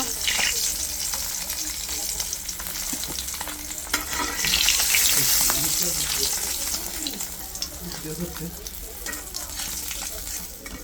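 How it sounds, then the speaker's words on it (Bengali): Koi fish frying in hot oil in a home kitchen, a steady bright sizzle and crackle with occasional stirring scrapes, close and continuous for the whole stretch. "কই মাছ যত হালকা করে ভাজা করা যায় তত স্বাদ লাগে, বেশি ভাজলে ভালো লাগে না।"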